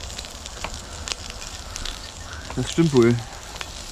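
Beef and vegetables sear in a pot hung on a tripod over an open fire outdoors, a steady soft crackling sizzle under the fire's noise while people talk.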